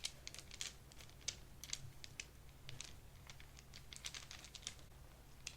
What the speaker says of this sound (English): hopefully you can hear some of the nice sounds of the dice in the bag